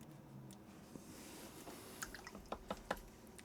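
Watercolor paint is flicked onto paper in a few quick splashes, making faint wet taps and drips that cluster near the end against a quiet room.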